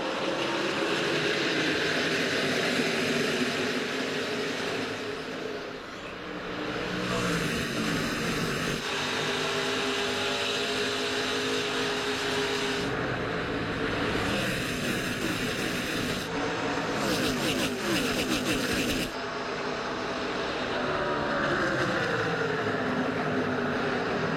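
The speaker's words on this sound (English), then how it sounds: "This restart to begin the third and final stage with Kyle Busch on the inside and Brett Moffitt on the outside." NASCAR race cars roar as the field accelerates on a restart for the third and final stage, a dense continuous engine drone with rising pitch sweeps and pass-by surges, loud and sustained throughout.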